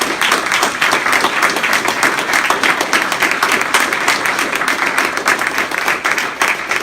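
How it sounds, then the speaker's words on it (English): A crowd applauds loudly and continuously, a dense, steady wash of clapping from many hands. "Give them a round of applause."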